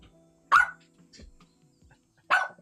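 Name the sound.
dog barking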